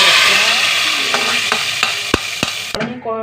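Curry leaves hit hot oil with popped mustard seeds in a pan for a chicken curry, a loud steady sizzle with a few sharp crackles and spits that cuts off abruptly near the end.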